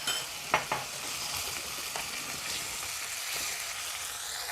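Shallots and masala are stirred in a pan for a beef dish under a steady close sizzle, with a few sharp spoon scrapes early on and softer strokes later.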